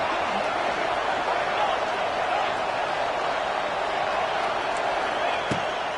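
Football stadium crowd at an Ole Miss game against Penn, a steady dense roar of many voices building before a big third down, loud and continuous with a faint brief thump near the end.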